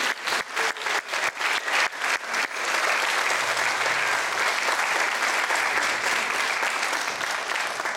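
An audience breaks into clapping, first as distinct rhythmic claps, then swelling into a loud, steady wash of applause that carries on for several seconds.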